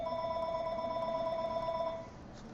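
Telephone ringing with a steady electronic ring tone, fairly faint and sustained for about two seconds before cutting off, leaving quiet room noise.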